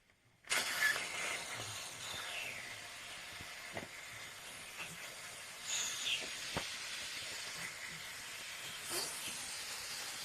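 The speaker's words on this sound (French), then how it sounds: "la vapeur est bien présente" A Dupray Neat steam cleaner with its cap loosened lets steam escape in a loud, continuous hiss that starts abruptly and keeps going, with a few faint clicks and knocks in the background and no voices.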